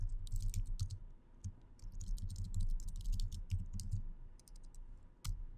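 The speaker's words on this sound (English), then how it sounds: "make sure you type in your password correctly" Fingers tap out a password on a computer keyboard, quick close clicks in short irregular bursts with brief pauses and one sharper keystroke near the end, no talking.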